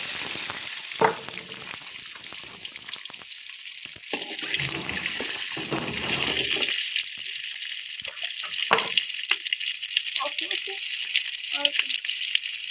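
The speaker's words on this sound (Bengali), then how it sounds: "তেল গরম হয়ে গিয়েছে এবং ডিমগুলো ছেড়ে দেবো ভিতরে।" Eggs frying in hot oil, a loud continuous crackling sizzle close by that persists throughout, with scattered pops and a few faint clinks and watery splashes, no talking.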